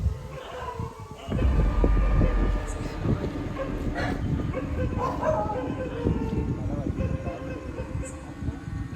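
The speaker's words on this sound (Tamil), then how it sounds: "நாய் வேறு அப்பப்போ குலைச்சிட்டே இருக்கு" Dog barking repeatedly at an eerie abandoned place in Thoothukudi, sharp scattered barks over rumbling background noise and people talking nearby.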